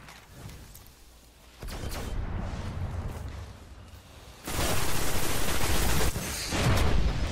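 Gunfire from a weapon in the video game Destiny, heard as bursts of rapid shots that grow louder partway through and keep going in sustained volleys.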